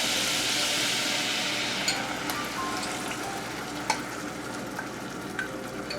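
Demi-glace goes into a simmering Bordelaise sauce in a pan. A steady close sizzle and bubble runs throughout, with a few small clicks of a utensil and no talking.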